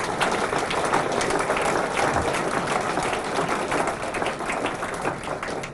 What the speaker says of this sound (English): they do deserve a big clap